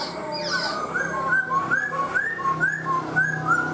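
A black-throated laughingthrush sings close by, giving a repeated series of clear, rising whistled phrases in a steady rhythm, loud and alone over light background noise.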